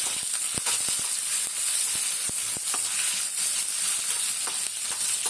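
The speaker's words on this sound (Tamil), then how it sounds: "இது நல்லா கொஞ்சம் வதக்கிக்கணும்." Onion, tomato and tamarind sauté in a hot pan with a steady, close hiss and sizzle, punctuated by soft clicks of stirring, no voices.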